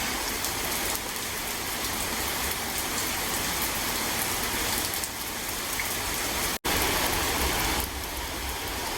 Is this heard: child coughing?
no